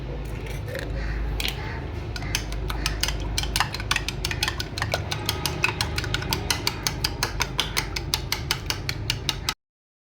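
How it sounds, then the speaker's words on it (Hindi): An egg being beaten in a bowl for frying rice and chicken balls, a rapid run of sharp metallic clicks as a utensil strikes the bowl. The strokes are loud and close, with no talk, and stop abruptly near the end. "एक अंडा लेंगे हम, इसको मैं अच्छी तरह बीट कर लूँगी"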